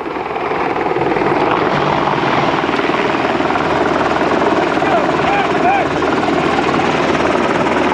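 An Apache helicopter's rotor thumps steadily and loudly throughout, a dense continuous roar with rhythmic chopping close by.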